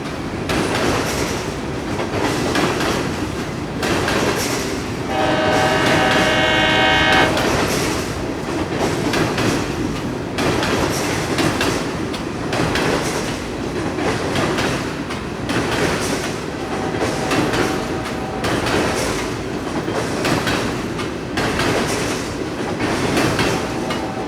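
Freight train rolls past on the Palmetto line, steady rumble with rhythmic clickety-clack of wheels over rail joints and a brief whistle-like squeal, sustained and fairly close without talk.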